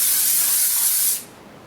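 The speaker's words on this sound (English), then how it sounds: "Now I'm going to use this Redken Quick Dry hairspray." Redken Quick Dry hairspray, number 18, sprays in one loud, close, steady hiss for about a second before cutting off.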